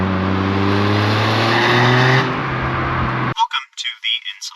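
A 2023 Toyota GR Corolla engine drones loudly with a deep, rumbling exhaust tone that fades down, then a voice starts talking.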